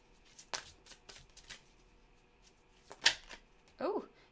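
Goddess guidance oracle cards being shuffled close by, in a handful of quick riffling bursts separated by pauses, with a brief voice sounding near the end.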